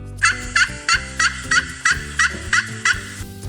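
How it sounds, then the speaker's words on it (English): A turkey gobbles in a rapid series of about nine short, evenly spaced bursts, loud and close with no talking. "Turkey."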